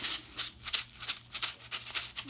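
Homemade sensory shaker made from toilet paper rolls and tape, filled with rice, shaken in quick repeated bursts, giving a crisp rattling hiss in a fast rhythm of about a dozen strokes, close and fairly faint.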